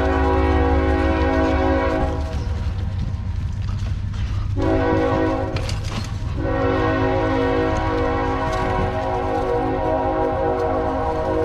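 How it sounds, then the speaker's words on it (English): A train passes near a wooded biking trail, its horn blaring in long sustained chords while rail rumble and clatter roll steadily underneath, loud and close throughout, with no voices. "Train somewhere, look over there."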